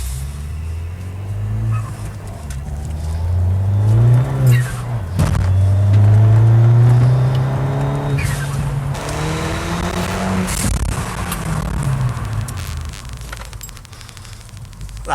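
A Ford Fiesta ST180 is driven hard to bed in EBC brakes, its engine loud and close as it revs up through the gears, drops off, then climbs again with rising and falling pitch.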